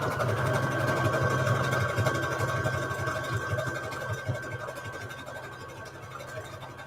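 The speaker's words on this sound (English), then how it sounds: "I just love using my sewing machine." A sewing machine stitches steadily with a fast mechanical whir and rhythmic clatter, close and continuous, tapering slightly toward the end, with no voices.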